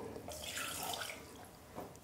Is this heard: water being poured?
yes